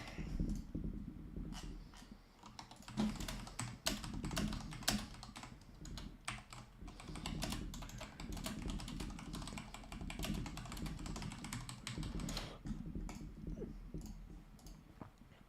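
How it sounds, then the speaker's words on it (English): Rapid, uneven clatter of typing on a computer keyboard, close and fairly quiet, continuing in bursts for about fifteen seconds with a faint dog whimper in the background. "I was just typing in the group chat just then. That's what you heard me typing."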